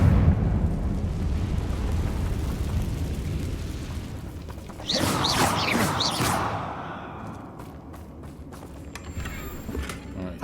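The Confringo blasting spell in Hogwarts Legacy, a loud burst partway through, with crackling debris and a rumbling explosion over a steady low game ambience that fades into scattered clicks.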